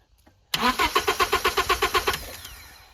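Carbureted Honda Accord engine cranking over: a steady run of about eleven rhythmic starter pulses, loud and close, that fades out without the engine catching.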